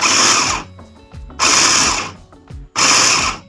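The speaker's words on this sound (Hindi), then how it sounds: "यहाँ पे हम इसको ब्लेंड कर लेंगे" A kitchen chopper blends chicken cubes into mince in three loud whirring bursts, each about half a second to a second long, with quieter clatter and knocks between them.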